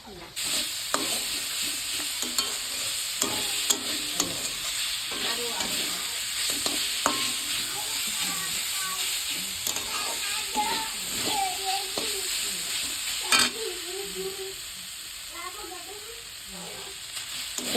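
Ingredients frying in a pan for chowmein, with a continuous sizzle and repeated scraping and tapping of a spatula as they are stirred, close, with a voice talking now and then.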